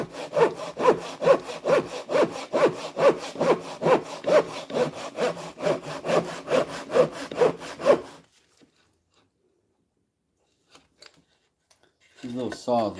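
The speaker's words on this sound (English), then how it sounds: "These little saws are so bendy" Small flexible hand saw cutting through wood in rapid, even back-and-forth strokes for about eight seconds, close and clear, then stopping into near silence with a few faint knocks and a brief voice at the end.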